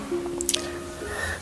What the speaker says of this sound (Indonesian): kemudian aku kasih perasan jeruk nipis